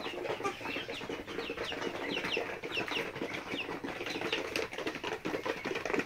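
Native chickens cluck and chatter at a hatchery selling chicks in Muktagacha, Mymensingh, a busy overlapping flock at moderate distance with steady scratchy background noise.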